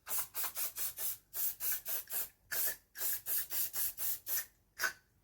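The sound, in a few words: aerosol spray coating sprayed over a drawing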